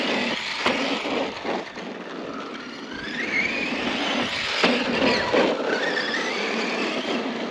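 An Arrma Scorpion XXL 6S electric RC car runs on a track, its motor whining and tires squealing at varying pitch as it accelerates and turns, fairly close and continuous with no talk.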